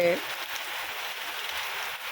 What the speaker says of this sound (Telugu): చూడండి, వర్షం అయితే చాలా భారీ ఎత్తున గాలితోనే వస్తుంది